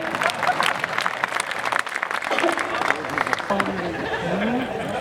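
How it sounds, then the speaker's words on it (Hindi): Audience applause at a kavi sammelan poetry gathering in Udaipur, scattered clapping mixed with crowd chatter and speaking voices throughout. "तालियां बजाइए"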